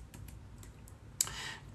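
Several soft, close key clicks from someone typing on a computer keyboard, spaced irregularly, with a sharper burst of keystrokes near the end over a low background hum.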